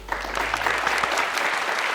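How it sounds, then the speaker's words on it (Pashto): Studio audience on a quiz show bursting into brisk, dense applause that holds steady across the moment, close and fairly loud. "په ویاړې چکچکې دوستانو"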